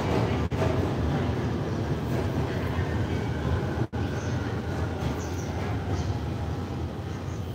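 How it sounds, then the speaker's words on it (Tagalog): A fast train in Japan rushes past close by, a loud steady roar with rattling wheels that holds for several seconds. "Bilis ang tren dito, ano?"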